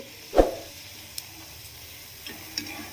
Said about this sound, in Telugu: ఆయిల్ అనేది ఇప్పుడు బాగా వేడెక్కి ఉంది కాబట్టి మనం మీడియం ఫ్లేమ్లోకి అడ్జస్ట్ చేసుకొని మిగిలిన బైట్స్ని కూడా ఇలానే ఫ్రై చేసుకోవాలి.